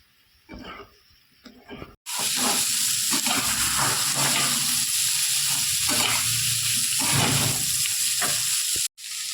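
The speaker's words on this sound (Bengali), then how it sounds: "এবার এঁচড়গুলো দিয়ে দিই। এঁচড়গুলো একটু ভালো করে ভেজে নেব।" Young jackfruit pieces drop into hot oil after a brief quieter moment, then a loud, steady sizzle and crackle of frying carries on with stirring noises, cutting out briefly near the end.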